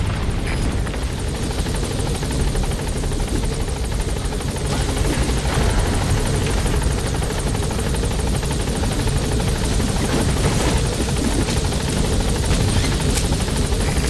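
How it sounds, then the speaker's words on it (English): A military helicopter in Metal Gear Solid V touches down, its rotor keeping up a loud, constant thudding roar throughout, close and unbroken, with no voices over it. "All right, the chopper's touching down."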